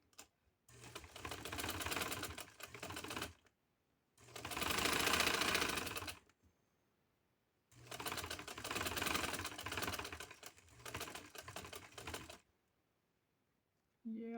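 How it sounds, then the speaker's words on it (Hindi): A sewing machine stitches lace onto a V-cut round neckline in four steady whirring runs of several seconds each, close and clear, with quiet pauses between them. "मैं पहले ये सिलाई लगाऊंगी फिर बाहर वाली लगाऊंगी, क्योंकि इसको लेस के साथ मैंने बिठाना है।"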